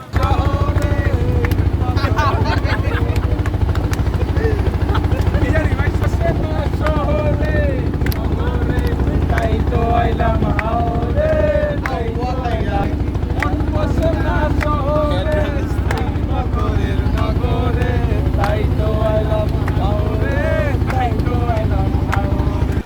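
A motor trawler engine drones steadily and loudly throughout on a haor wetland, a constant low rumble with wind buffeting, while several people talk over it.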